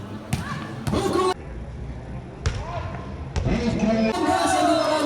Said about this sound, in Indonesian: pukulan keras masih bisa diblokkan